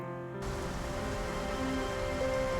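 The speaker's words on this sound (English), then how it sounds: "Uh-oh, looks like rain." Steady rain in the Wii game Trauma Center: Second Opinion, a continuous wash of falling drops that sets in after a brief quieter moment and holds at an even level, with no voices.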